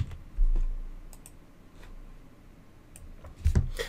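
Keystrokes on a computer keyboard while entering a process name, a few soft, sparse clicks near the start and a short louder cluster toward the end, quiet and alone with no talking.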